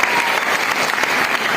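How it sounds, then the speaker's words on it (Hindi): An audience at a motivational talk in Patna clapping together, a dense, loud, continuous burst of applause with no pauses for its short length. "जल्दी से एक बार तालियां बजा दीजिए"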